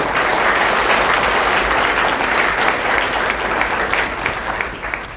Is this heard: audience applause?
yes